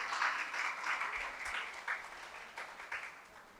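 An audience claps in a religious gathering hall, a dense, fairly faint patter of many hands with uneven bursts and swells throughout, heard without talk.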